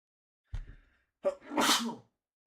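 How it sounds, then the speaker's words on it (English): A single sharp sneeze, a quick intake followed by a burst, close by, with a brief short sound just before it. "Oh, sneeze."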